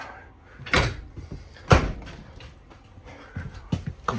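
RV storage compartment doors in a 2025 Vibe 2600RK travel trailer shut one after another, a few sharp knocks and thuds spaced apart with quieter handling noise between them.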